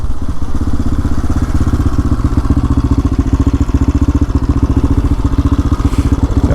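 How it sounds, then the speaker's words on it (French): Old American truck engine idling and rumbling nearby on a desert road in Iran, a steady loud low thrum with rapid rhythmic clatter throughout. "Ah, ça, c'est du camion, ça."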